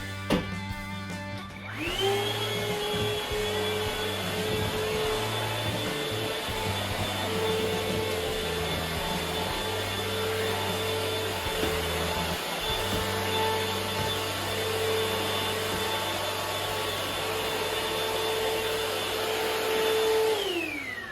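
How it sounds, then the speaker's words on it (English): A vacuum cleaner switches on and runs with a steady high whine and roar, continuous and close, before its pitch drops at the end. "this is the vacuum"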